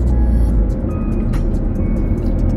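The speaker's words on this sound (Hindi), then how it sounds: "ट्रैफिक ज़्यादा लगा हुआ है" Busy road traffic at a roundabout in Sharjah, heard from inside a moving car as a loud, steady engine and road rumble with other vehicles close by.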